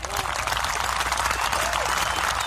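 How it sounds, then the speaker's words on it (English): A crowd-cheer sound effect from a button plays dense applause and clapping at an even, steady level for a couple of seconds, close and fairly loud, with no voices over it. "Crowd cheer or something"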